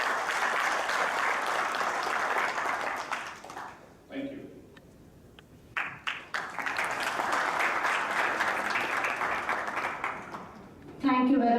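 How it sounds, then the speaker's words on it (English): Sustained applause from an audience at a company's 15th anniversary celebration honouring a team of 14, a dense steady clapping that briefly dips midway with a short spoken thanks, then swells again to full strength. "A round of applause for all 14."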